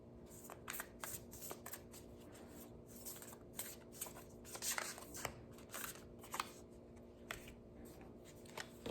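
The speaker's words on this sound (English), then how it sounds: "I'm going to go to the Starseed Oracle and pick a" Oracle cards being shuffled by hand during a reading, a steady run of soft papery riffles and flicks over about nine seconds, close and fairly quiet, with no talking.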